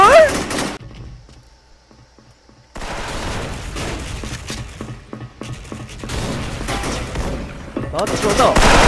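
Rapid gunfire from the online shooter Special Force rings out in loud, overlapping bursts and rattling volleys, broken by a brief quieter lull with faint mechanical clicks before the shooting resumes at close range.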